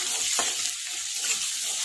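Green chili, dry garlic and grated ginger roasting in oil for Mehsana-style tuver totha, with a close, steady sizzle and one quick stirring scrape, and no voices.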